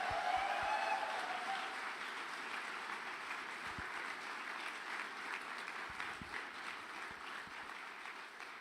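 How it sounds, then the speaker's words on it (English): An audience at an Air Force ROTC change of command ceremony gives a round of applause for the external presenters, a steady, moderately distant wash of many clapping hands lasting several seconds. "So let's give them a round of applause."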